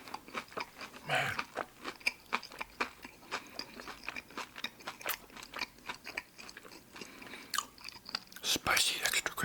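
Close, crisp chewing of spicy extra crispy fried chicken from Lee's Famous Recipe Chicken: repeated crunchy bites and wet mastication sounds coming in quick, irregular bursts.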